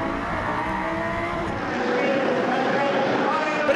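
Lamborghini GT race car at Zolder circuit during a 2013 FIA GT Series race, its engine droning loud and steady with broadband roar, rising slightly midway, under a commentator's voice.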